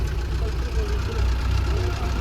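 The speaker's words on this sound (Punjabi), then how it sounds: "ਗੱਡੀ ਬੜੀ ਜਾ ਰਹੀ ਆ ਬੱਸਾਂ ਗੱਡੀਆਂ ਟਰੈਕਟਰ ਫੁੱਲ ਜਾ ਰਹੇ ਆ" Buses, cars and tractors jammed on a road near a farmers' gathering at Khanauri make a continuous low engine rumble and idling drone, steady and close throughout.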